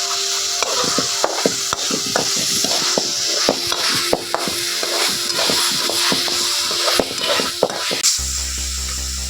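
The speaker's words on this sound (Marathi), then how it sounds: "हे आधी परतून घेऊन मग टाकू आपण" Whole spice masala roasts in a pan for a paneer curry, a busy run of rhythmic spatula taps and scrapes over a light sizzle, ending with an abrupt shift to a steady humming tone.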